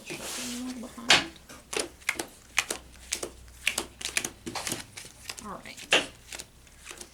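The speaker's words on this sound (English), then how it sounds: "I'm still shuffling a little behind" Cards being shuffled for a Dominion deck-building game, a run of quick papery riffles and snaps at close range, broken up by short bursts of speech.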